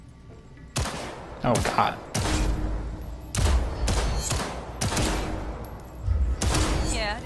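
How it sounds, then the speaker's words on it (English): Bursts of rapid gunfire at tactical target practice in the video game Cyberpunk 2077, loud and close, fired in several heavy volleys with short voiced exclamations between them. "Let's blast through a tactical target practice program."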